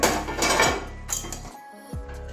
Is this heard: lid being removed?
yes